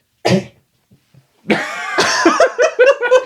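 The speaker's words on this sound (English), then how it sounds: "sorry everybody, that was the dog" A pet dog gives a short harsh cough-like bark, then after a pause a longer run of whining, yelping vocal noises follows, fairly loud and close with no talk over it.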